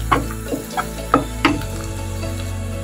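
Chicken roast frying in a pan while being stirred, a steady soft sizzle broken by several distinct scraping strokes of the spoon against the pan.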